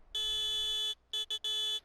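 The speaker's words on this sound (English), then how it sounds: "This is what the horn sounds like." The horn of a TLX 2020 tractor mod in Farming Simulator 19 sounds as a loud electronic beep: one long blast, then three quick shorter honks, with no voices.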